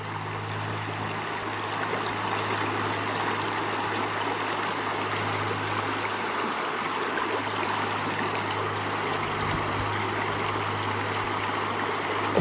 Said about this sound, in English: watching this beautiful river.